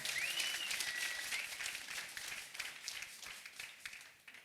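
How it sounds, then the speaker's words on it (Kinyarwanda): A church congregation claps for God during a worship service. The applause is fairly faint and steady at first, then turns rhythmic and thins toward the end. "Komera Imana amashyi menshi cyane"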